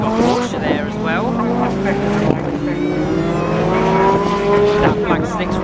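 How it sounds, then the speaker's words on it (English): Time attack race car at a modified car show, loud revving engine with rising and falling tones and sharp exhaust pops, a voice talking over it. "I'll just shut up and let the car sing for you. Massive pops and bangs."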